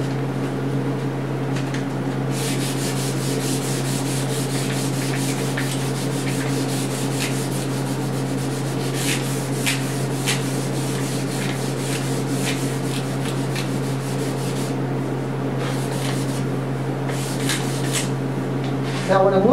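Rhythmic scratchy strokes of 220 grit sandpaper on a Martin D-28 acoustic guitar under repair, sanding in steady back-and-forth passes close by over a constant background hum.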